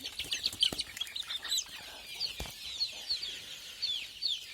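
Native country chicken chicks packed in a crate, a chorus of many high thin peeping cheeps overlapping in quick irregular bursts, with occasional soft thumps and faint background clatter, no voices.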